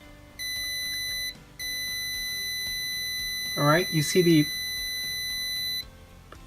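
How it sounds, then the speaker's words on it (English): An Arduino buzzer alarm triggered by an HC-SR04 ultrasonic sensor sounds as a continuous high electronic tone, close and steady, breaking briefly once and then holding for several seconds while someone talks over it partway through. "the buzzer will sound as soon as my hand is with less than 2 inches from the sensor"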